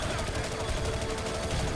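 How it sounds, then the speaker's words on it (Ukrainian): Gunfire from behind rattles on in the video game The Chronicles of Riddick: Escape from Butcher Bay, a continuous loud burst of rapid shots that fills the whole short stretch with dense, crackling noise. "Ззаді хтось в мене стріляє"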